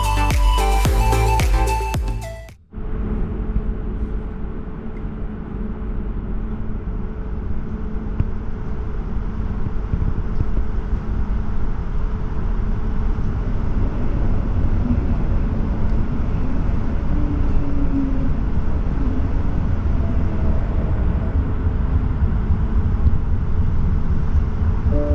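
A modernized double-deck Dosto train on the Taunus Railway rolls toward a station, heard from inside as a steady low rumble and wheel noise after a short burst of other sound at the start.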